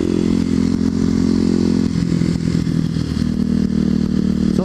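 A Kawasaki KLX250SF supermoto with spoked wheels and long-travel suspension rides over rough ground, its engine droning steadily and loud throughout with clattering and thumping from the bumps, and no voices.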